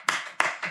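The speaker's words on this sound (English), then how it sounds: "I think that deserves a round of applause." Applause during a podcast conversation: three short bursts of clapping, each with a sharp onset that fades quickly, close and fairly loud with no talk over them.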